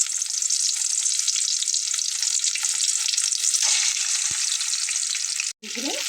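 Fish pieces fry in hot oil in a small kadai, a loud continuous sizzle that holds steady and close, with a brief clink of utensils near the end.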